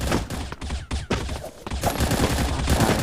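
Rapid automatic gunfire from a gun in the shooter game Bullet Angel rattles out in loud, dense bursts, broken by a few brief pauses before the firing runs on steadily.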